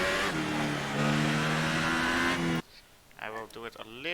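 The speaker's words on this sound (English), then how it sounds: "compared to the engine sounds" Formula One race car engine from the F1 2018 racing game at the Australian circuit, a loud sustained high whine for over two seconds that cuts off abruptly, followed by brief talk.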